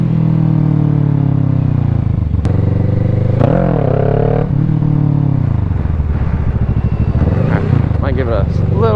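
A motorcycle engine revs hard in second gear during wheelie practice, loud and close, with rising and falling pitch sweeps and a sharp clatter early on, throttle surging repeatedly over several seconds.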